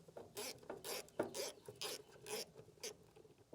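A wrench working 9/32 bolts out of the filler neck housing on the front fuel tank of a 1989 Ford F-350 7.3L IDI diesel, heard as repeated close ratcheting clicks in short uneven bursts.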